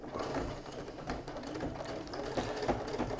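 A sewing machine runs a top stitch on a fabric soup bowl cozy, a steady close whirring and rapid needle clatter that carries alone for a few seconds.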